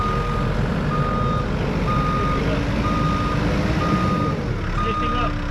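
A truck backing up with steady, evenly spaced reversing beeps, loud and close over a constant engine rumble, with tires flat at the front.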